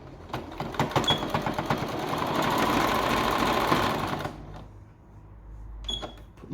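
A sewing machine stitches appliqué onto a T-shirt in a fast, steady run of needle strokes for about four seconds, then slows and pauses before a short final burst of stitching. The machine sounds close and clear.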